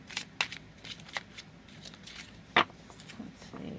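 Someone shuffles a Frida Kahlo Tarot 119th Anniversary Edition deck, producing a few quick papery riffles and snaps, with one sharper crack near the end, all fairly close and with no talking.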